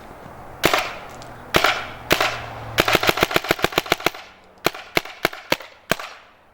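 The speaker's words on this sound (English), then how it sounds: "Take it off of safety, cock it, and let's take a couple shots." Tippmann A5 paintball marker fitted with a magazine conversion kit firing sharp, loud pops, first singly, then a quick rapid string, then several spaced single shots.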